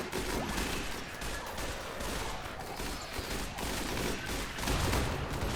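Turrets in the RimWorld video game keep up rapid, continuous gunfire, a dense rattle of overlapping shots that stays fairly quiet and steady throughout, with no voices.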